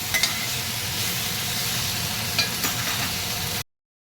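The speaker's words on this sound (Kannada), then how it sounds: "ನಾನು ಸ್ವಲ್ಪ ಎಣ್ಣೆ ಹಾಕಿ ನೀಟಾಗಿ ಫ್ರೈ ಮಾಡ್ಕೊಂಡ್ಬಿಡ್ತೀನಿ" Ivy gourd pieces fry in hot oil in a pan with a steady, close, broadband sizzle, broken by a few soft stirring clinks, before the sound cuts off abruptly.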